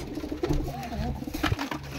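Pigeons coo softly and repeatedly nearby, low throaty calls overlapping in a steady murmur.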